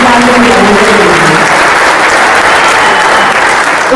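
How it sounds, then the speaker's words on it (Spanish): Loud, sustained applause from a crowd at an anniversary celebration for the regional newspaper La Voz de Armenia in Quindío, steady clapping filling the whole stretch with no talk over it. "Un fuerte aplauso por todos ustedes"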